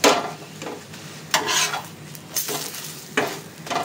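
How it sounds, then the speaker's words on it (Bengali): Aloo paratha frying in white oil in a pan, a steady crackling sizzle broken by several louder bursts as the flatbread is pressed and turned, with faint utensil scrapes and no talking. "2 পিঠ উল্টে পাল্টে একটু ভালো করে ভেজে নেবেন, তারপরে তেল দেবেন"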